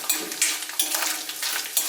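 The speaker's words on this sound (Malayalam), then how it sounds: "ഈ നമ്മുടെ വെളിച്ചെണ്ണക്കകത്തെ തേങ്ങ അങ്ങോട്ട് ഇടുമ്പോഴത്തേക്കിന്" Sliced coconut hits hot coconut oil and fries with a bright, steady sizzle broken by a few louder crackling bursts, close up and alone.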